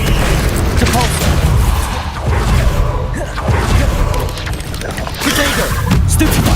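Depulso spell cast in the video game Hogwarts Legacy, a series of loud booming blasts and crashes in quick succession over dense combat noise.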